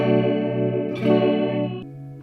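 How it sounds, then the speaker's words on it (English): Electric guitar through a Positive Grid Spark amp's cloner chorus effect set to high depth, a sustained chord shimmering with deep, wobbling pitch modulation, loud and alone, with a brief strum change near the end. "This is a cloner chorus."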